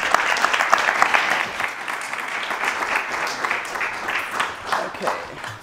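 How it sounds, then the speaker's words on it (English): An audience at a live horn music session applauds, a dense burst of clapping that is loud at first and then holds fairly steady before tapering slightly. "Big applause from the audience"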